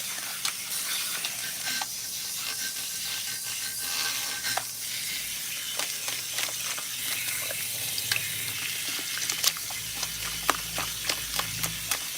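Water runs steadily from a salon sink sprayer while hair is being washed, a continuous hiss with scattered small clicks and splashes, fairly loud and without talk.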